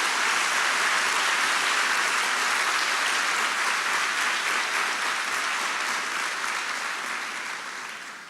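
A church congregation claps steadily in dense, loud applause that holds for several seconds and then tapers toward the end.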